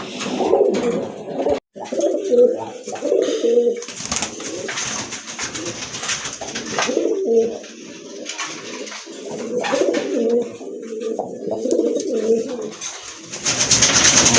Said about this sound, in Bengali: মাশাআল্লাহ আরেক জোড়া কবুতর দেখতে পাচ্ছেন, খুবই চমৎকার, খুবই অ্যাক্টিভ কবুতর